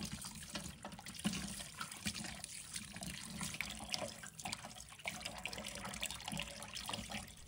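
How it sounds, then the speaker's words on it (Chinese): Chicken rinsed under a running kitchen tap, a steady faint splashing stream of water with small irregular spatters throughout and no talking. "接下来，用流动的水彻底冲洗鸡肉，确保将血水和杂质完全洗净，直到水变得清澈为止"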